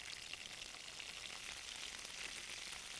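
Garlic and chili flakes sautéing with chopped onion in a pan give a steady, close hiss of frying oil, even and continuous throughout with no voices.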